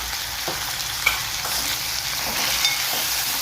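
Chopped vegetables, including red pumpkin and tomato, being stirred in a pan for sambar give a steady, close frying hiss with soft scraping strokes throughout.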